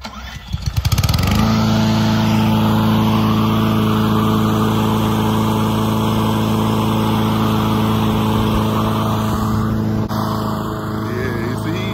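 A lawn mower engine runs steadily and loudly while cutting grass, kicking in after a brief sputtering start and droning on at an even pitch throughout.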